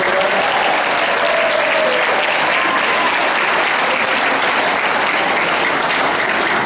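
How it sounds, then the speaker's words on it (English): Loud, sustained applause for Colonel Tom Middleton at a 2015 ceremony in Naples, Florida: a crowd clapping steadily and evenly throughout, close and full, with faint murmurs mixed in. "Another round of applause for Colonel Tom Middleton."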